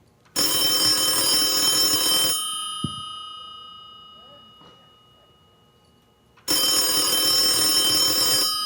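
Telephone bell ringing loudly in two long bursts at a USS Midway member event, an electric ring cut off for a quiet gap with a faint click, then starting again close by.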